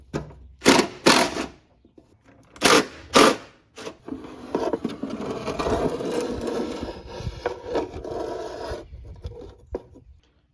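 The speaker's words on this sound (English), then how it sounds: "I'm going to pull the whole wiper transmission out as a unit by undoing these wiper pivots and the one nut on the arm on the back of the wiper motor" Wiper pivot nuts being undone on a pickup truck to lift out the wiper transmission: a few sharp mechanical bursts, then a steady buzzing, rattling whir up close that stops near the end.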